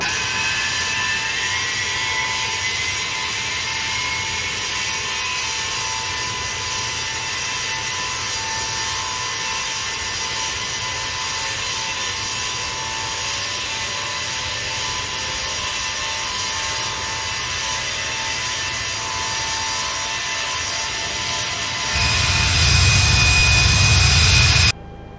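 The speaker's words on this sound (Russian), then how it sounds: "Двигатели запущены, замечаний нет." The jet engines of a Tu-154 airliner run steadily in a flight simulator, a loud continuous whine and roar that holds for the whole stretch and swells with added rumble near the end.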